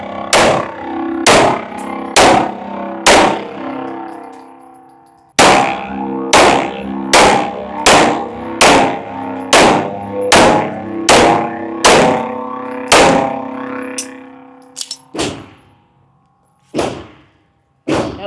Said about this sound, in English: this will be 100 rounds through this new Glock 17 Gen 6